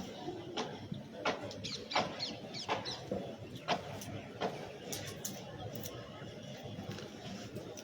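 Chickens cluck in short scattered bursts around a yard, fairly close, while people talk quietly underneath.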